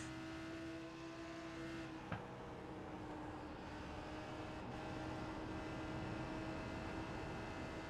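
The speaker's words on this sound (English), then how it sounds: "Helly are doing a fantastic job here of holding on to that Lamborghini GT3." A Lamborghini GT3 race car in a sim racing game at Fuji Speedway gives a steady, droning engine tone with a faint hiss behind it and one sharp click partway through. No one speaks.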